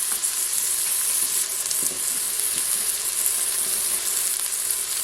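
Vegetable goulash beginning to sizzle in a preheating pan, a steady bright frying hiss that carries evenly throughout with no talk.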